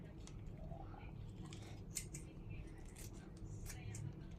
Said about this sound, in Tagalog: hiwa-hiwain natin to ng maliit. Gunting lang ang ginamit ko kasi maninipis naman